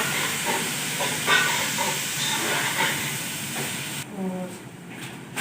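Tomatoes go into a hot pan of golden-fried onion, garlic and ginger and set off a loud, steady hiss and sizzle that drops a little toward the end.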